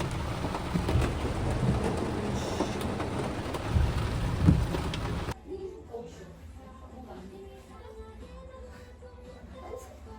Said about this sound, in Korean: 비가 개 많이 오는 중